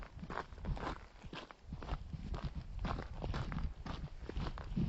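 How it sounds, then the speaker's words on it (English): Footsteps of a walker on the Via Francigena pilgrimage route near Patrixbourne crunch in a brisk, steady rhythm, close and fairly soft, with no talk. "Listen to my footsteps. I still think I'm walking too fast."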